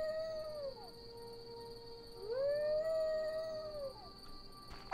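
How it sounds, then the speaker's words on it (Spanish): Dog in The Witcher video game howling, two long mournful wavering howls with a short gap between them, clear and fairly close over a faint steady tone. "¿Por qué aullas, perro?"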